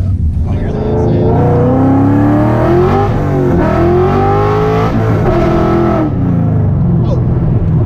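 Caleb's Coyote-engined Fox car fired up and driven, a loud close engine rising through revs with gear changes and falling pitch sweeps, steady and powerful throughout.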